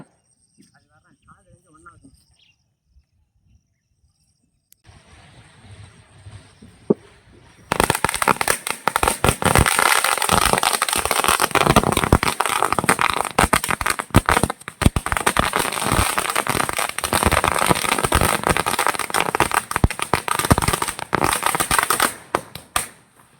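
After quiet fizzing, a long string of Diwali firecrackers erupts into rapid, dense crackling bursts, loud and continuous for many seconds before stopping.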